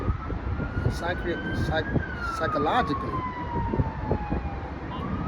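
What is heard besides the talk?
emergency vehicle sirens in the background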